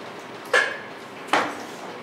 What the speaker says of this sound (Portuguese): eu vou pôr direto na panela, naquela panela branca, grandona